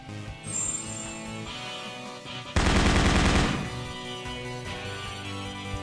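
Retro JoJo video game The 7th Stand User, with looping chiptune music and a loud burst of rapid electronic gunfire that cuts in partway and lasts about a second before the music carries on.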